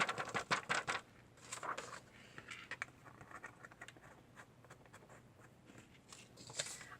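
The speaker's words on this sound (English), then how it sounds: "I'm going to return it back to the jar so I don't waste any." Gilded embossing powder pours from a paper scrap back into its jar, giving soft granular patter and light scratchy rustles in a few short bursts, close and quiet, with no talk.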